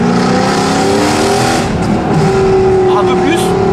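A Mercedes C63 AMG engine drones loudly and steadily while driving, a dense low rumble with sustained tonal harmonics and a brief pitch shift, close and continuous.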